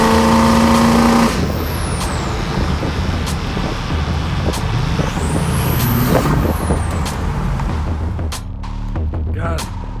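A 2007 Ford F-350 Outlaw diesel pickup driving: a loud, continuous engine rumble with road noise, a brief air-brake-like hiss at the start and a few clicks and knocks, heard from inside the cab.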